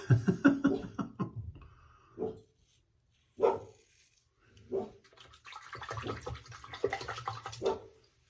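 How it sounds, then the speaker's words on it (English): A dog barks at a delivery person in short loud bursts, first a rapid cluster, then several separate barks with pauses between, close by, with some water running in the background. "Oh, there's the dog."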